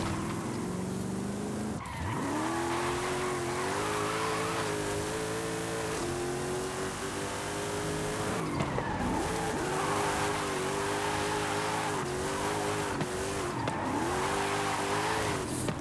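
A car in Forza Horizon 5 drifts and spins out, its engine revving and wavering in repeated surges while tires squeal loudly and continuously, with no talking.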